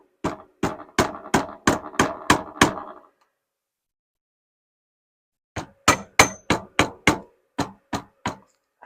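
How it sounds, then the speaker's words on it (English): A rubber mallet strikes in quick, steady bursts: a run of about eight blows, a pause of silence, then another run of similar thuds. "So I'm gonna use this rubber mallet to push this in a little bit."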